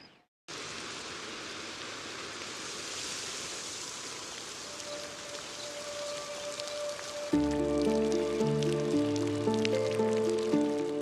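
Torrential rain pours steadily with a dense, even hiss during the wildlife rainy season, lions sheltering beneath a tree; background music joins partway through.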